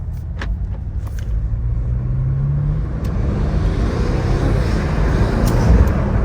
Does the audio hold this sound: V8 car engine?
yes